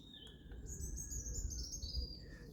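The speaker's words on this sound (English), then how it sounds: "You hear the birds singing today." Birds sing in the woods in early March, a few thin high chirps and a whistled rising phrase drifting at a distance over a low rumbling background hum.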